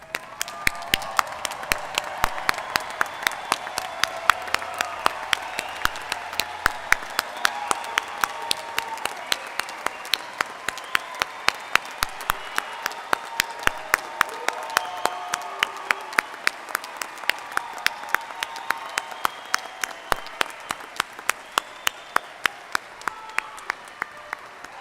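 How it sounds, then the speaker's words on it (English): Sustained applause from a large audience at a university graduation commencement ceremony, steady dense clapping that carries on loudly for the whole stretch with no speech over it. "judging from the applause"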